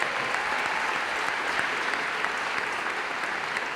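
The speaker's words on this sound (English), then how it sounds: "Please give them a round of applause, please." Applause from the audience at a high school graduation ceremony, steady and even clapping from a large crowd heard at moderate loudness from some distance.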